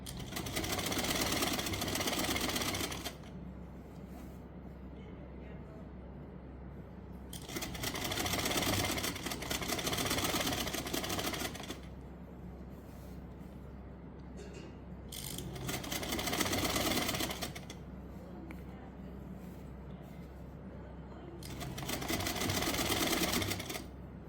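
Domestic sewing machine stitching a frock neckline in long runs of rapid, buzzing whir, each several seconds long, separated by quieter pauses, close and fairly loud.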